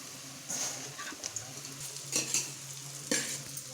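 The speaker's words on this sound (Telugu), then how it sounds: "ఇప్పుడు ఈ టైంలో మనం చపాతీలు వేసుకుందాం." Chopped chapati strips being stir-fried in a pan for chapati noodles, a soft sizzle under scattered spatula scrapes and clinks against the pan, fairly quiet and close.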